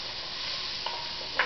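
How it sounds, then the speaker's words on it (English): Onions and carrots sear in a pot for smothered oxtails, a short steady close sizzle with a couple of faint pops, no talk. "I'm going to put these onions and carrots in here. Get a good sear on them."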